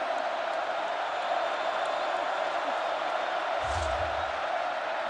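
Stadium crowd rooting for the California defense at a Washington vs California college football game, a steady broad roar holding at even volume for the whole stretch, with faint talk above it.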